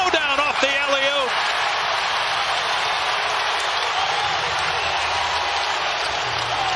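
An NBA playoff arena crowd in Oklahoma City roars steadily after an alley-oop one-hand dunk, a broad, loud wash of cheering with a commentator's voice heard over it at the start.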